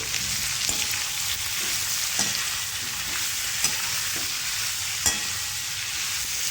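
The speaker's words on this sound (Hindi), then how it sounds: "यहाँ पे मेरे पास बटाने हैं फ्रेश, इन्हें भी सब्जियों के साथ में अच्छे से भून लूँगी" Mixed vegetables with fresh green peas frying in a pan give a steady, close sizzle, with a few sharp stirring clicks at irregular intervals and no talking.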